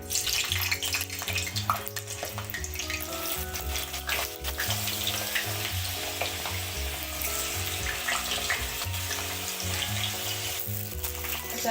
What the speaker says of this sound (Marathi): आपलं तेल हे तापलेलं आहे, याच्यामध्ये आपण बटाटे तळून घेऊया।